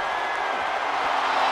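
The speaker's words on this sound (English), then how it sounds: "The sound of this crowd is deafening, and he's asking for more." Crowd roar from a WWE 2K22 wrestling match, a steady dense wash of arena noise that stays loud and unbroken throughout, with no distinct claps or separate cheers standing out.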